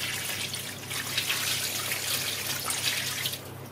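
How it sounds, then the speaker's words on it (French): Water pours steadily into a cooking pot while duck is being cooked, a close continuous splashing trickle with no talk. "Là, on va mettre un fond d'eau."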